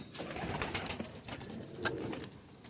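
Patti cross-breed pigeon pairs coo softly and continuously in a loft, with several overlapping low burbling calls and faint shuffling, no talking.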